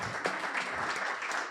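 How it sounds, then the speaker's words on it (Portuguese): A brief burst of audience applause, moderately loud and steady, with no speech over it. "Uma salva de palmas pela ambição, né?"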